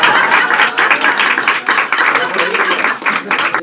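A live audience in a French-speaking show claps in dense, sustained applause, a loud continuous patter filling the whole stretch without breaks.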